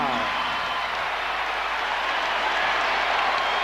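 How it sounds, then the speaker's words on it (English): A basketball arena crowd at a Lakers versus Pacers game in January 2000 gives a standing ovation, a dense, steady roar of clapping and cheering that holds throughout, with a commentator speaking over it. "Standing ovation from the crowd."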